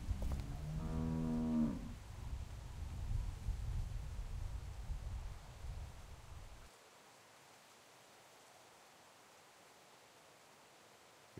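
A cow in The Walking Dead video game gives one loud, drawn-out moo near the start, followed by low rumbling ambience that cuts to near-silence.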